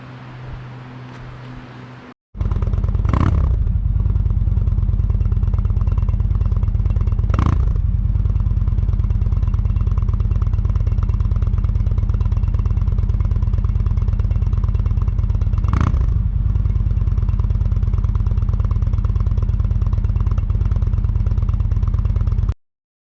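A motorcycle hitched to a camper trailer idles steadily with a loud, low, even engine drone after a brief quiet start, marked by a few sharp clunks and rattles, and no talking.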